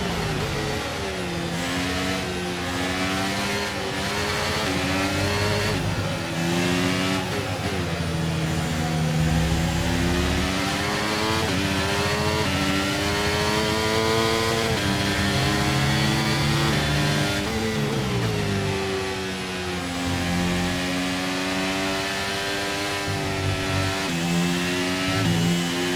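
Formula 1 racing car engine in F1 23 at the Lusail circuit, with wear on its combustion engine: loud, continuous high-revving whine rising and falling through gear changes and throttle lifts, heard alone without talk.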